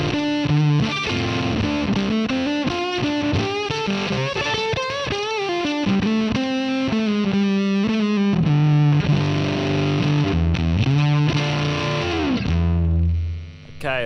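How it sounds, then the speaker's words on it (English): A heavily fuzzed electric guitar through a Fuzz Face model in the Line 6 Helix Native amp simulator plays a gritty, buzzing riff with thick saturated tone, continuous and loud, ending in a fading sustained note. "I know fuzz are meant to sound fuzzy, but I don't think a fuzz face is meant to sound like that."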